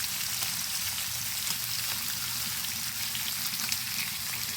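Bacon frying in a pan, a dense continuous crackling sizzle, loud and close, with no talking.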